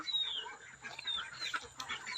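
Soft clucking from a brooding hen sitting on eggs mixed with other chirpy bird calls, steady and fairly close, with no talking.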